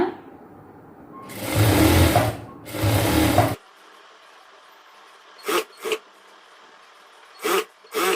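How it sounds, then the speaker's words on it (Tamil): A sewing machine stitches chudidhar fabric in a tailoring lesson, two loud sustained runs of rapid whirring, then quieter gaps with short bursts of stitching. "ஸோ டபுளாக வச்சு அடிக்கணும்னா ஃபர்ஸ்ட் வந்து இப்படி தையல் போட்டுக்கோங்க."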